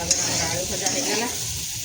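Potatoes frying in a pan make a dense, steady sizzle heard up close, with a couple of faint clinks from a utensil early on and no talking.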